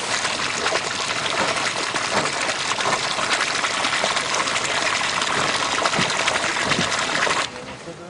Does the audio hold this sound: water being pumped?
yes